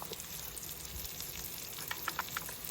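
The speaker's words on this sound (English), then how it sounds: "I'm gonna move my bacon to the front of the Blackstone and let all of that good bacon grease" Bacon sizzles on a Blackstone griddle outdoors at a state park, a soft, fairly quiet frying hiss with a cluster of sharper crackles and pops toward the end.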